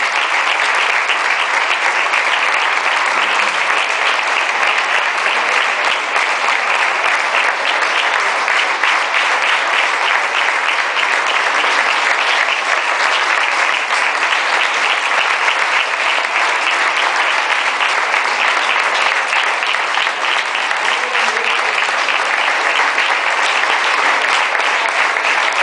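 Audience applauding a dance group leaving the stage at a Valencian festival gala, a loud, dense and unbroken roar of clapping that holds steady throughout.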